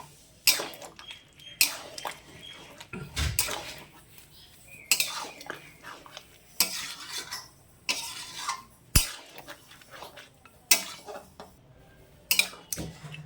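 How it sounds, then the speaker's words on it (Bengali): A metal spoon stirs chicken curry with potatoes and garam masala, then moves the meat into another pot, making irregular close clinks, scrapes and knocks against the vessel, with quieter pauses between them. "দিয়ে ভালো করে নাড়াচাড়া করে মাংসটাকে নামিয়ে নেবো একটা পাত্রে।"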